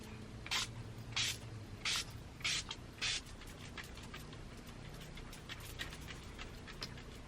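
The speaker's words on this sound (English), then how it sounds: "I'm just going to set everything with the Urban Decay All Nighter Setting Spray" Five quick hissing sprays from an Urban Decay All Nighter setting spray bottle, evenly spaced, close and clear against a quiet background.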